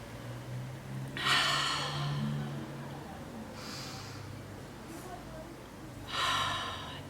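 Deep inhalations of essential oil rubbed between the palms, three drawn-in breaths spaced a few seconds apart, close and fairly soft over a low background hum.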